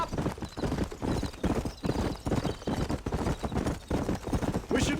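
A horse galloping in the video game Red Dead Redemption, with rapid rhythmic hoofbeats thudding steadily and close throughout, plus a brief whinny-like sound near the end.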